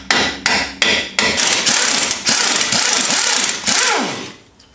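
Sharp metallic hammer blows tapping out an upper bolt on the rear trailing arm of a 2002 Mitsubishi Lancer, several spaced strikes followed by a rapid loud flurry of hits, close and alone.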